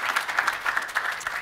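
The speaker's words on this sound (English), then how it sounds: "Give a round of applause to Javier." Brief burst of audience applause for a speaker at a Python conference talk, a steady patter of many hands clapping.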